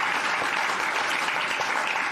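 An audience at a launch event for the WA Innovators of the Year claps for the sponsors. The applause is loud and sustained, a dense crowd of hands without pause and with no talking over it.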